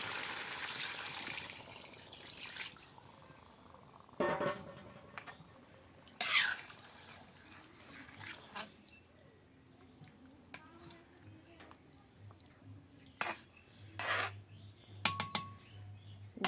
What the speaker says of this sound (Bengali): এখানে আমি পর্যাপ্ত পরিমাণে জল দিয়ে দেখো জল নিয়েছি এটা আমি দিয়ে দেবো